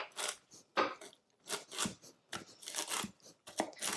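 A knife running through walnut halves on a cutting board, giving quiet, irregular crisp cuts and scraping strokes in short bursts separated by pauses.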